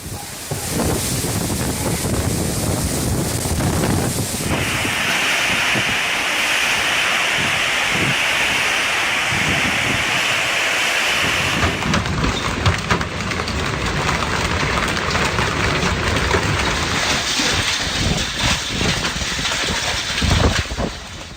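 A severe storm in Iraq brings constant loud roaring wind buffeting the microphone, mixed with heavy rushing rain and a dense wash of noise that shifts in tone partway through, with no voices.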